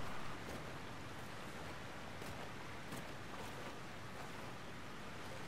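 A waterfall in a video game roars as a constant, even rush of falling water, heard alone with no voices.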